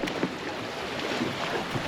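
A sailboat moving under sail with its engine stopped gives off a steady wash of water and wind noise that holds at a constant level, with no voices.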